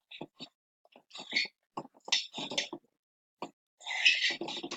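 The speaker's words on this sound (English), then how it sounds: "You just keep on stirring until you think you got everything mixed" A spoon works through a thick ranch, hot sauce and cheese dip, making soft wet plops and scrapes in short irregular strokes close by, with quiet breathy sounds between.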